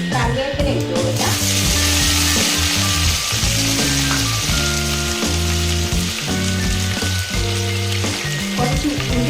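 Mustard seeds and curry leaves sizzle loudly in hot oil over a low flame, a constant close crackle under layered tonal music that runs throughout.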